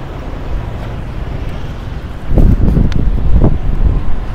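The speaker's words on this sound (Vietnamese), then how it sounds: "Gió mạnh quá." Strong gusting wind buffets the microphone on a rainy city street beside Ben Thanh Market in Ho Chi Minh City, a steady rushing roar that swells into heavier low thumping gusts in the second half, with faint traffic beneath.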